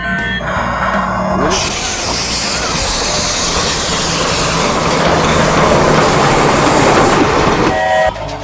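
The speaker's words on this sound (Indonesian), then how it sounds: "Wah, ada kereta api teman-teman." A toy train runs steadily with a continuous rattling, clickety-clack rumble and hiss, close and fairly loud, with no talking.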